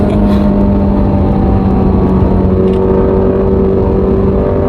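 A new Ferrari Amalfi on the move gives a steady, loud engine and road drone heard from inside the car, with a faint constant whine running through it.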